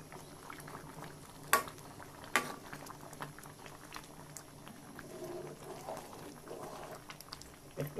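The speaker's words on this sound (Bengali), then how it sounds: "এটা মোটামুটি মূলগুলো সিদ্ধ হয়ে আসছে।" Radish and lentil dal bubbles in a pot at a steady low simmer, with soft popping and burbling close by and a couple of sharp clinks of a lid or utensil.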